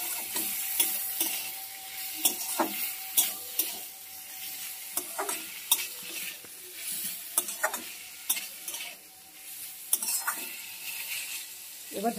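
Elephant foot yam stalks with slit green chillies stirred in a pan, a steady sizzle broken by repeated sharp scraping clicks of the spatula against the metal.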